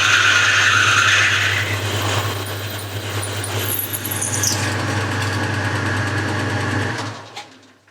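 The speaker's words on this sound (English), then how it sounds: "So the next thing I need to do is drill and tap the end of this bore." Steady whine of a drill cutting into the end of a metal bore, continuous and close, with a high grinding edge early on that eases before the motor winds down at the end.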